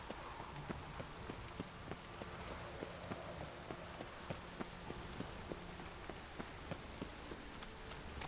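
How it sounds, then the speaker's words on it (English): Steady rain falling in the Witcher 3 video game, a soft, continuous hiss of drops with faint rhythmic clip-clop hoofbeats of a horse beneath it, no talking. "It's raining again."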